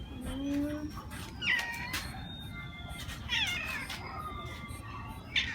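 A cat meows a few times over a steady background hum, the cries rising and falling in pitch, fairly close.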